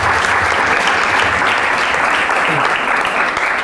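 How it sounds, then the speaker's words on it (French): Sustained applause from an audience at a women entrepreneurs' event in Morocco, dense and steady throughout, loud and continuous without a break. "j'aimerais bien en fait qu'on s'applaudisse tous ensemble par rapport à ça"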